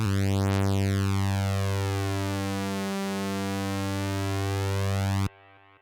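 A buzzy Viper synthesizer tone held in hold mode sustains steadily while its timbre sweeps slowly, then cuts off abruptly, leaving a faint tail.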